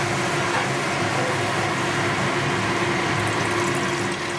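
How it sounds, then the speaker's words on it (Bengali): Water poured into a pan of Bengali katla fish curry with mustard-poppy paste and lentil dumplings, a continuous loud rushing pour close by, with no break in the flow. "এরপর আমি জল দিলাম"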